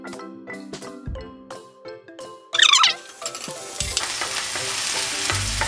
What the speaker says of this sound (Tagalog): Kapag medyo mainit-init na ang mantika, maglalagay naman tayo ng 1 kutsarang bawang.